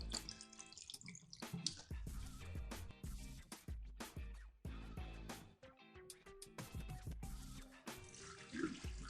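Rinse water poured out of an Instant Pot holding rinsed rice, a splashing, gurgling stream into a sink with irregular bursts and brief gaps as the pot is tipped, heard close and alone.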